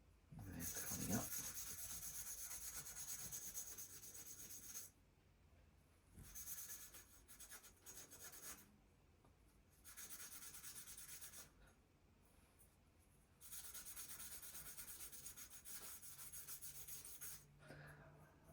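Scouring pad, a cheap Scotch-Brite copy, scrubbing a degreased carburettor from a Victa 18 lawnmower, heard as close, steady rasping rub strokes in several bursts separated by brief quiet pauses.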